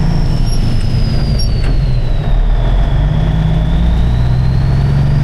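An International 8200 truck's engine rumbles loudly and steadily while shifting into fifth gear, its deep drone shifting pitch slightly with a faint rising and falling whine above, heard from inside the cab.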